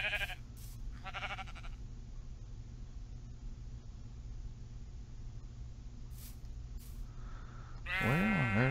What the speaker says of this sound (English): Strange looking sheep, man.